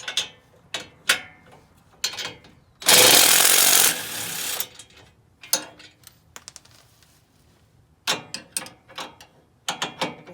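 A 15 mm socket wrench on the rear trailing arm links of a 2018 Polaris RZR Turbo, with sharp ratcheting bursts and clicks separated by pauses and one loud sustained noisy stretch, close and intermittent.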